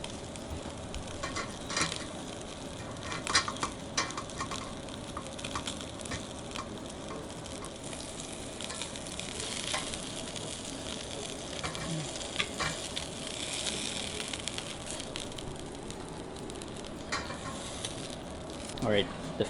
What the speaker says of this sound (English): I heard the sizzle